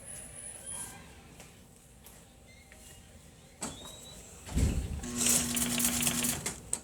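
A sewing machine stitches a box cushion. Quiet handling noises come first, then a short, loud burst of rapid needle stitching near the end.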